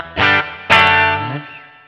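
Electric guitar through the spring reverb emulation of a NUX MG-300 processor: two strummed chords, the second ringing out loud with a long, smoothly decaying reverb tail.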